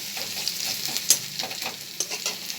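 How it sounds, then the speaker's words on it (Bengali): Something frying lightly in hot oil in a pan before snake gourd and potato are added, with a steady soft sizzle and a few brief stirring scrapes, close and alone. "খুব হালকা করেই ভাজবো, বেশি কড়া ভাজবো না"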